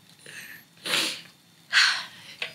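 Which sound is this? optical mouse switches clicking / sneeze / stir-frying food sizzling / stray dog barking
sneeze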